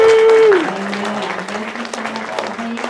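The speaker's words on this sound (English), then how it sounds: "let's just give them a hand clap of welcome." A church congregation claps to welcome newcomers, a steady patter of applause with a sustained tone fading out early and a low hum running beneath.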